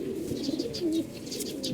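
Domestic pigeons coo steadily and close by, a continuous low warbling with faint chirps above it and no talking.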